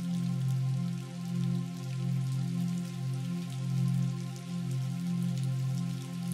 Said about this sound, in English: And now the rain has come